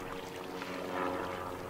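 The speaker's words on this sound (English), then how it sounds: "you just want to start paddling just like you would a canoe" Paddle strokes pulling through flat water from a kneeling position on a paddleboard, with steady, soft watery swishing and splashing, close and continuous, without talk.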